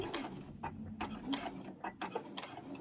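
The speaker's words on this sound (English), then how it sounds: "stitch to the outside edge, and then stitch back across." A sewing machine stitches a lanyard, sending out a quick, rhythmic run of mechanical clicks and whirring bursts at close range, fairly quiet.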